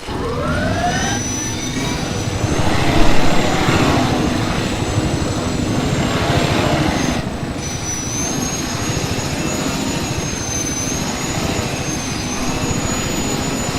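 A helicopter in the Desert Combat game flies with a steady, loud, continuous engine and rotor roar and a rising whine that holds for the whole stretch, no voices.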